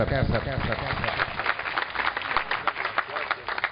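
An audience at an Urdu poetry recital applauds as the poet takes the stage, a fairly thick spread of clapping heard through a muffled, band-limited recording with some crowd murmur underneath.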